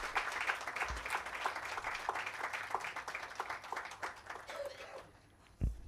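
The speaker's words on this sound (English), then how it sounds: "Kindly give a huge round of applause." A university conference audience in Pune applauds after a felicitation, a moderate wash of clapping from a hall that fades toward the end, with a few sharp knocks.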